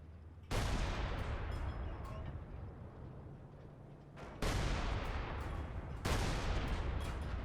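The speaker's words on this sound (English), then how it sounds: "The LEFH is counter barraging." LEFH artillery in Company of Heroes 2 firing a counter-barrage: three heavy, sharp blasts, each with a long rumbling decay, the second and third coming close together.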